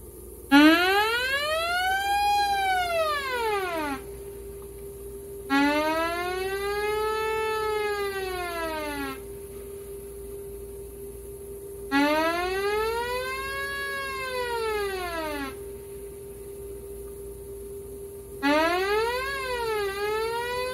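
Modular synthesizer patch with a YuSynth comparator gate triggering an envelope: repeated swooping, siren-like tones rising and falling in four long phrases, loud and alone with short gaps between.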